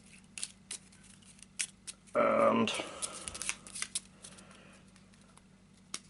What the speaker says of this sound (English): she's going to have a rifle through the deck. So here we go. Quick shuffle.